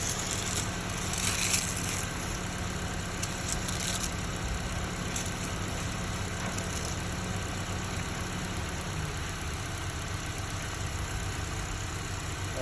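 A car engine runs steadily during a jump start, a continuous, close, fairly loud idle drone with no talk over it.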